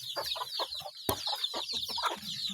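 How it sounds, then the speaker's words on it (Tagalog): Native chickens clucking in a steady series of close, overlapping calls, with one sharp sound standing out partway through. "Mga manok na yan."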